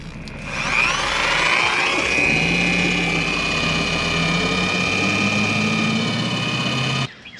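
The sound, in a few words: drill-powered pump running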